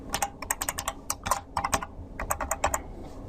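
Rapid bursts of keystrokes on a computer keyboard while entering text into a web form, close and clear with short pauses between flurries, no talking.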